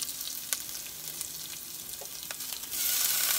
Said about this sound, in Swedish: I med timjan. I stekpannan på detta viset.